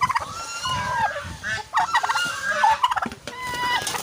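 A baby goose gives repeated high, squeaky peeping calls, loud and close, with irregular bursts and short pauses and no talk over them.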